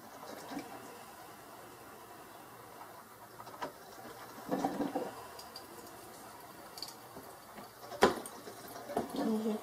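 Mr Coffee 12 cup programmable coffee maker brewing a strong batch, giving faint gurgles, drips and small watery pops at an uneven pace, with a few louder bursts late on.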